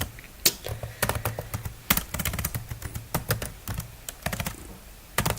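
Rapid, uneven typing on a computer keyboard, clattering keystrokes close by and fairly loud, with a steady low hum underneath and no talking.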